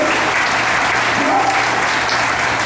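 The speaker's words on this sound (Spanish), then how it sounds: "Dale un aplauso al Señor" A church congregation bursts into loud, dense, sustained applause that stays steady throughout, with a faint voice underneath.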